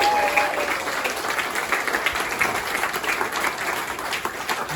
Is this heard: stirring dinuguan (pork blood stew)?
no